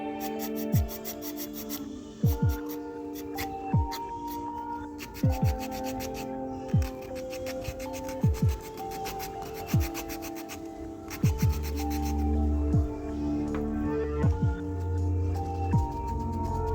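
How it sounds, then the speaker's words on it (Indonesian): Fret saw cutting through the middle of a handmade wooden floating minnow lure body, giving a steady rasping back-and-forth stroke with regular repeated pulls, close and fairly loud, with no talking. "sekarang kita belah bagian tengahnya dengan gergaji ukir kalau ada ya."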